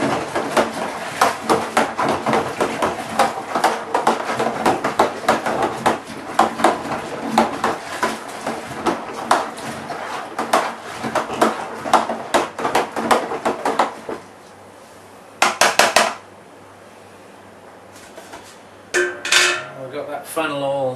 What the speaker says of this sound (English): A good stir.